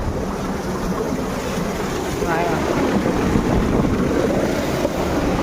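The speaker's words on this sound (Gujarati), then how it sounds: "દેખાડું પાણી ચાલુ અને પાણીનો અવાજ આવે." Water flowing into a filter tank on a Narmada water line, a steady broadband rush of running water close by, with wind buffeting the microphone throughout.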